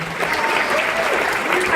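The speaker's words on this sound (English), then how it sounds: "can we give ourselves a big hand for not only making it," A convention audience at a 25th-anniversary G-Fest opening ceremony breaks into dense, loud applause that holds steady throughout, with a few voices mixed into the clapping.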